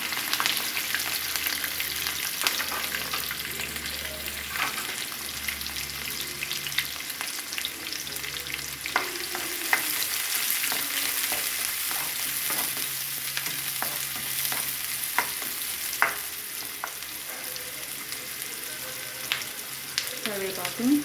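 Onions and green chillies fry in a pan for a Telangana-style goat head curry, a steady close sizzle broken by repeated scrapes and clinks of stirring, with no talk.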